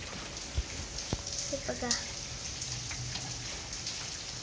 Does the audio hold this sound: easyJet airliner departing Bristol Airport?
no